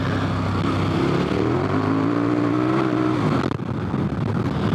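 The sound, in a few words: dual sport motorcycle accelerating at full throttle on Heidenau K60 tire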